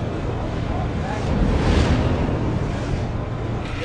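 A large centrifuge spinning produces a broad, continuous rushing whoosh that swells slightly in the middle, steady and fairly loud with no talk.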